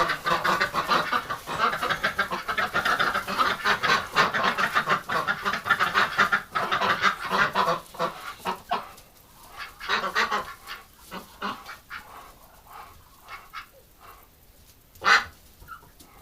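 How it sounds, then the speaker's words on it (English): A flock of ducks quacks and honks loudly inside a coop, the calls dense at first then thinning to scattered quacks. "let's see how many ducks we have in here"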